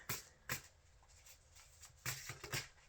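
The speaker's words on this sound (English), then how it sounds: "shuffle these a little bit." Soft, close tarot card shuffling: several brisk riffles and flicks spaced unevenly, with quiet rustling between them.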